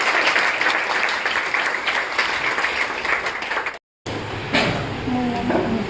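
An audience at a college campus radio event applauds loudly and steadily, breaks off for a brief silent cut, then keeps clapping.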